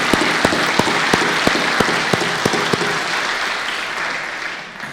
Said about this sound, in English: Ladies and gentlemen, these men and women deserve a round of applause as well